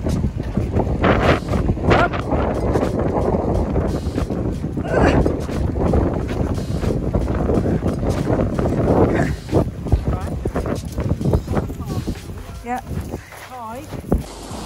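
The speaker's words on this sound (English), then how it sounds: "Weather's not great. Blowing in the wind." Strong wind at a beach buffets the microphone in a loud, continuous roar with gusting surges, and a voice speaks over it.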